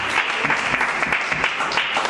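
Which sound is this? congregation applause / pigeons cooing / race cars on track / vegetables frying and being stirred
congregation applause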